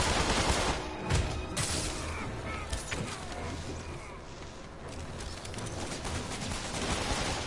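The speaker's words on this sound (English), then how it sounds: "Spider-Man's taking sniper fire. Police are shooting at me too." Gunfire and sniper shots in a Spider-Man video game, with bursts of shooting from snipers and police over a dense, loud mix of game effects, with faint talk beneath.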